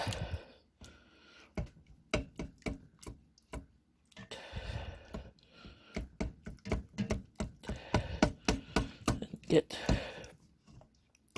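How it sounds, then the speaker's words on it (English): Knife taps on a cutting board, irregular at first, then a quicker run of chops, with quiet speech underneath. "I'm just chopping this"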